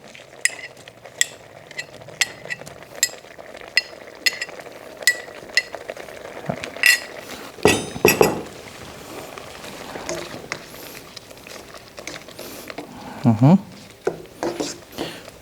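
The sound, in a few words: shrimp stirred and frying in spice paste in a pan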